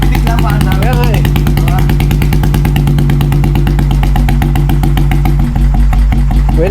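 A Honda CB650R motorcycle engine runs at a steady, rapid, throbbing idle close by with a loud exhaust, while people talk over it.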